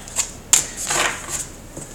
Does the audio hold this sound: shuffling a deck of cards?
yes